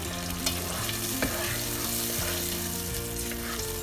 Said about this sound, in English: I'm mixing it together and frying it.